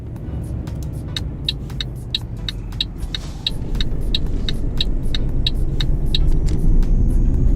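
Heavy truck with a 600-horsepower engine accelerating in Euro Truck Simulator 2 multiplayer with ProMods: a steady low engine rumble that grows louder about halfway through, with regular clicking ticks running over it.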